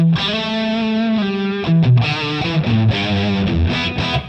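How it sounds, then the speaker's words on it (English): Electric guitar played through the high-gain distortion channel of an amplifier, set to a purple mode: loud, tight, saturated chords and riffs changing every half second or so, close and alone, with no talking. "it's such a tight distortion"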